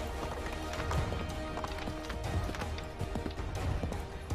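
A horse gallops in Assassin's Creed 3, with steady rhythmic hoofbeats under continuous game ambience, close and fairly loud.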